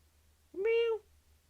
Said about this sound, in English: Is that Silver meowing?